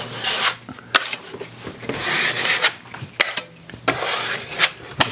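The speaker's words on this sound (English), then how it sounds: "Get the knife up here and start smoothing that out." A drywall knife scraping and smoothing setting-type joint compound over a patched hole in drywall, close rasping strokes in uneven bursts with sharp clicks as the blade touches the surface, no talking.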